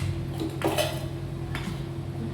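Metal clanks as a pressure cooker lid is shut and the pot is set down on a kitchen stove, two distinct close clunks over a quiet low hum.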